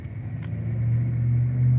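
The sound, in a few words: loud truck passing near a park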